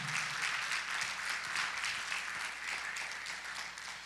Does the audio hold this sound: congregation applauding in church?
yes